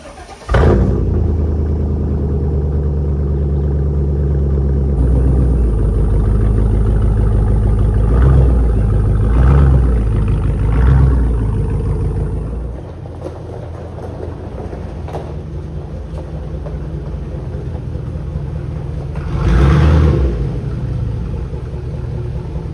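A truck engine that may be suffering from oil contaminated with coolant cranks, catches, and then runs as a loud, steady low rumble, with revving surges near 8-11 s and again around 20 s.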